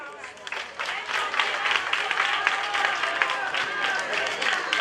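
Audience applause at a prison inmate graduation ceremony at Mile II headquarters in Banjul, a steady wash of many hands clapping throughout, with some crowd noise mixed in.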